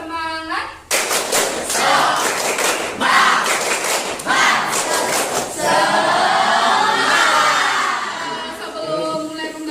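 A school class standing up to perform a rhythmic spirit-clap chant in the classroom, sharp bursts of hand claps and thumps in patterned groups, with shouted voices joining toward the end and loud close group sound throughout.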